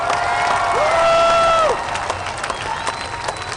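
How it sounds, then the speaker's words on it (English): A political campaign rally crowd in Portland, Oregon claps and cheers loudly, with whoops and high shouts rising over the applause before it settles into scattered clapping. "Give yourselves a big round of applause."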